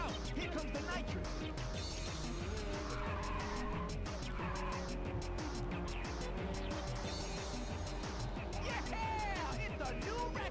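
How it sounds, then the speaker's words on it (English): Race car in Ridge Racer 2 on nitrous boost, a sustained engine drone with tire squeals and skidding, loud and continuous, with a voice briefly heard over it. "Here comes the nitrous!"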